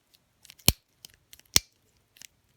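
A Shimano Rapid Fire 7-speed bicycle shifter mechanism, assembled without its nut, gives a few crisp, sharp clicks spaced about a second apart, with faint handling ticks between them in an otherwise quiet room.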